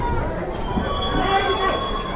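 The Azimganj–Malda passenger train pulls into a station, its wheels letting out sustained high metallic squeals over a rumbling roll, with platform chatter around.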